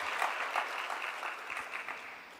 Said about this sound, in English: Welcome yourself with a round of applause